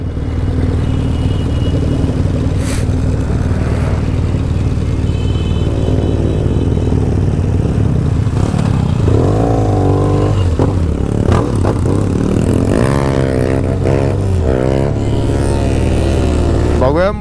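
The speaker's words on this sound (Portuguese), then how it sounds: "Tem moto, louco." Motorcycle engines rev and roar at close range on a night ride, rising and falling in pitch amid clattering and scraping, with people talking over the noise.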